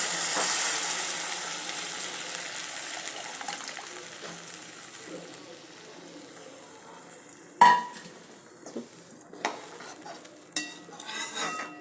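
A pan of spicy sweet potato curry with tamarind water bubbles and hisses steadily, then a few sharp clinks and scraping stirs break through toward the end.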